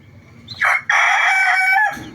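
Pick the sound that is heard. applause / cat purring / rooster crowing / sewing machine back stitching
rooster crowing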